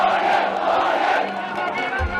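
A large crowd of protesters in Myanmar shouts together in a steady, loud roar of massed voices, close and continuous with no pause.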